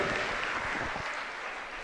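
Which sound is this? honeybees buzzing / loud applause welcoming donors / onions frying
loud applause welcoming donors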